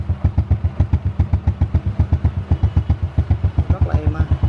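An old motorcycle engine, likely an early Honda Dream or Future, runs close by with a steady, quick putter of evenly spaced firing pulses, loud and uninterrupted throughout.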